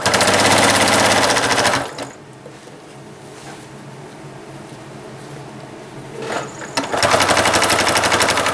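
A sewing machine stitches prairie points onto a quilt edge, running in a fast, close, rattling burst, pausing for several seconds of quiet handling, then starting up again.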